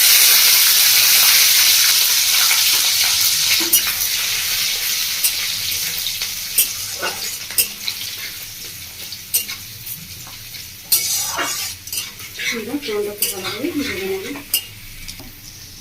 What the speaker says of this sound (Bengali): আর দিচ্ছি বন্ধুরা সাথে রসুনের কুচি।